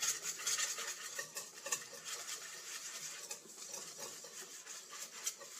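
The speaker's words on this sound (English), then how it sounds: "I'm just going to whisk it together." Egg yolk, minced garlic and cornstarch whisked together in a bowl, a quiet continuous rhythmic scraping and tapping of the whisk against the bowl, close and alone.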